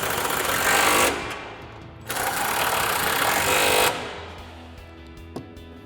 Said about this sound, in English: we'll grab our 15 mil socket, go ahead and tighten these back down